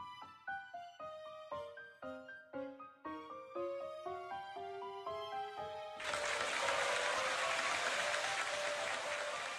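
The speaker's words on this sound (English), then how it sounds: "Yay, the applause." In the video game Umineko When They Cry Episode 7, a rising series of bright chiming notes plays, then a burst of synthetic crowd applause takes over and continues steadily, game-like and moderately loud.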